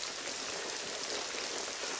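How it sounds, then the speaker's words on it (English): Steady rain hisses evenly, a dense wash of falling drops with no voices or other sounds. "We need to get you out of this rain and inside."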